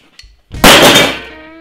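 A hammer strikes in a physics-destruction video game, a sharp metallic clang with a heavy thump that rings out and fades over about a second, preceded by a faint brief tone.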